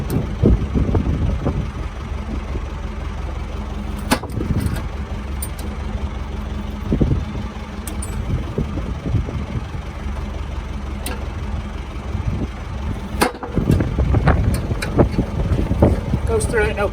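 A tractor idling at low revs drives a Price Fallows 10-ton hydraulic log splitter as it splits logs. A steady low engine drone runs throughout, with a few sharp knocks and clunks from the wood.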